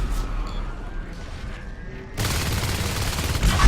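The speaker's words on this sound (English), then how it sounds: "He takes 3 shotguns right to the face." Shotgun fire in a competitive online shooter match: a sudden loud, dense burst of gunfire breaks in after a quieter stretch of game ambience and keeps roaring steadily to the end.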